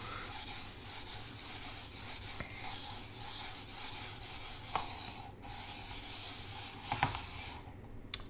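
A computer mouse slides back and forth on a Pulsar Superglide 2 ultra-thin glass mousepad, giving a continuous dry, raspy scraping like sandpaper in rhythmic strokes, close and fairly quiet, with a faint tap near the end.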